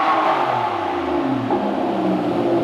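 A Lamborghini Aventador V12 engine runs close by with a steady deep rumble, its pitch dipping and then swelling as it is revved, with no voices over it.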